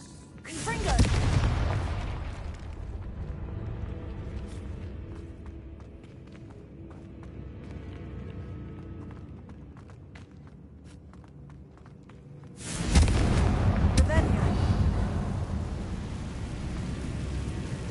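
Confringo fire spell blasts in the Hogwarts Legacy video game, a loud booming burst at the start followed by rumbling debris and scattered impacts, then a second heavy explosive blast that rumbles on to the end.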